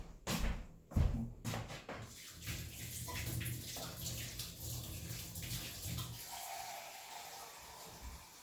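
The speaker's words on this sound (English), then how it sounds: "next I will be adding some water, and for this recipe I'm using 575 grams of water" Water pours into a bowl of bread dough, 575 grams of it, a soft continuous splashing after a few knocks and bumps at the start, fairly quiet and close.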